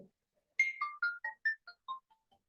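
A mobile phone ringtone from an incoming call plays a short melodic run of clear electronic tones, about eight notes stepping in pitch, alone after a brief murmur at the start.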